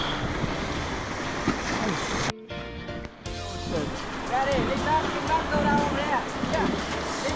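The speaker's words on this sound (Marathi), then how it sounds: "खळखळाट सुरू झालेला आहे पुन्हा" River rapids rush and churn around a raft in Vietnam, a loud broadband roar of white water with wind buffeting the microphone. The sound briefly drops out, then returns with splashing and people's excited voices.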